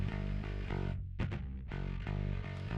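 A gritty, fuzz-distorted bass guitar plays a few thick sustained notes with a brief dip in the middle, loud and up close.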